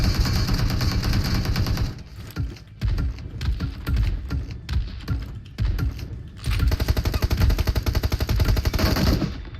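Rapid bursts of automatic gunfire in PUBG Mobile rattle in close, dense volleys broken by brief pauses, loud throughout with no talking.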